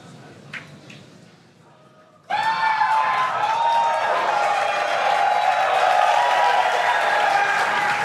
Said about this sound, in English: tell by the excitement from the crowd here at Mission Control Center in Hawthorne